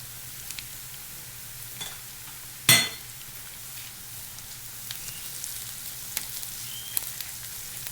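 Smoked salmon hits a pan of softened onions and garlic with one sharp, loud sizzling burst, then settles into a quiet, steady sizzle with faint crackles.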